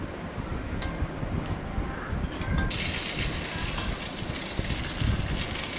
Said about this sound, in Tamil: ஃப்ளேமை கொஞ்சம் குறைச்சிட்டு ஒன்று ஒன்றா இப்போ பொரிச்சிட்ருக்கேன்